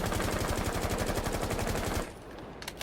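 Sledge's automatic rifle in Rainbow Six Siege fires a sustained, loud rapid burst for about two seconds, then cuts off, leaving a quieter tail with a few faint clicks.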